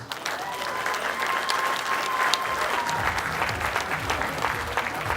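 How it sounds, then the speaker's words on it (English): Steady, dense applause from a conference audience at the 40 Streams conference fills the whole stretch at an even, full volume, with a thin sustained tone faintly in the background. "please give her a big round of applause"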